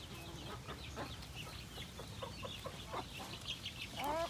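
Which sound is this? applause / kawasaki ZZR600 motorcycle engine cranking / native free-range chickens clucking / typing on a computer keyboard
native free-range chickens clucking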